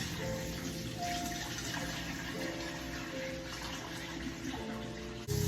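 Water pours steadily into a kitchen sink for several seconds, a continuous splashing gush with a bubbling, gurgling texture, close and fairly loud, ending with a brief clunk.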